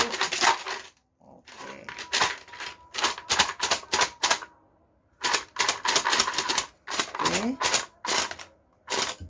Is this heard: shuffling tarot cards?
yes